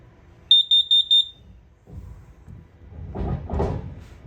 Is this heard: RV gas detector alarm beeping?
yes